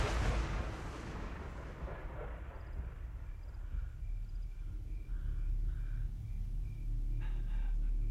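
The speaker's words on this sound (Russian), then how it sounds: "Я слышала выстрел." One loud gunshot bangs at the start, then fades into a low rumbling echo with faint ambient sounds.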